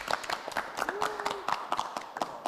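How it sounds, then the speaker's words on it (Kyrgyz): Studio audience at a media football league show claps in a brief, moderate burst of scattered hand claps, partly under a speaking voice. "И давайте барус, бирге, көрүүчүлөргө кол чап коелу"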